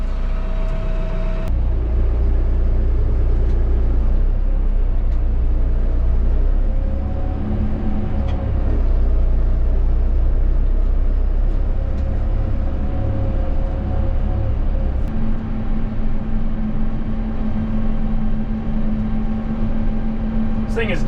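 The diesel engine of a Kioti HX1151 farm tractor runs in low range at under 1500 RPM, a steady deep drone heard from inside the cab, with a shift in tone partway through.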